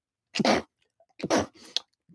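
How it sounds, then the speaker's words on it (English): A single person gives a sharp sneeze, followed a moment later by a second burst and a short trailing sound, close and fairly quiet, with silence around it. "I got to sneeze."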